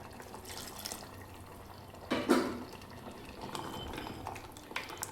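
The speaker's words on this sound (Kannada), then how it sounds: "ಇದಕ್ಕೆ ಇನ್ನೂ ಸ್ವಲ್ಪ ನೀರನ್ನ ಆ್ಯಡ್ ಮಾಡೋಣ." Water poured into a pot of bottle gourd kurma curry, a short splashing pour in the middle of a quiet kitchen, with faint liquid sounds afterward.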